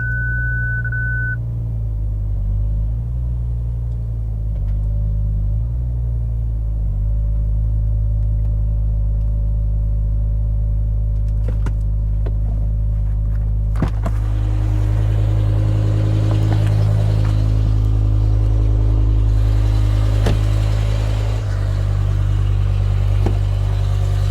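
A diesel car engine runs steadily throughout, a loud, close, continuous low rumble with a constant idle tone and slight swells in intensity, a radio playing faintly underneath and no speech.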